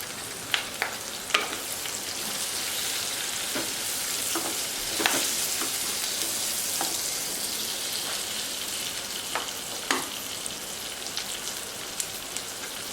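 Chopped tomatoes frying in a pan for sundakkai kara kuzhambu, a Tamil turkey-berry curry, give a steady close sizzle with scattered sharp crackles and pops throughout, no voices.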